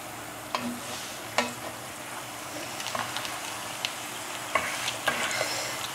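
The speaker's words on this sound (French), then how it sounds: "je vais augmenter le feu de la cuisinière, juste pour faire cuire la pâte extérieure" Thai rotee pancake dough cooks on a hot stovetop pan, with a steady sizzle under scattered scraping and tapping sounds as it is handled, moderately close.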